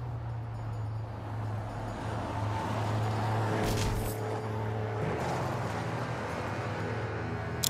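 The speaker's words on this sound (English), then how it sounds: "an ice cream truck will randomly drive into the scene at high speed and run your target over" In a video game, an ice cream truck speeds into the scene and runs over a target: a steady engine drone with a rising rush as it passes close, then fades back to a running motor.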